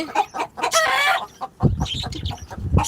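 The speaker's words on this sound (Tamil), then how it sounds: "இந்த கோழி தான் வந்து இப்போ முட்டை போட்டிருக்கு" A native country hen raised on a Chennai rooftop terrace clucks loudly after laying an egg, giving a run of sharp, close, repeated cackles with brief pauses between bursts.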